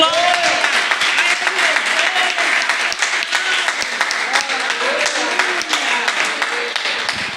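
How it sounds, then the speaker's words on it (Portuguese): A church congregation claps together in a dense, steady wash of applause that runs throughout, with voices singing or speaking over the clapping. "E aquele que crê pode bater uma salva de palmas para o Senhor"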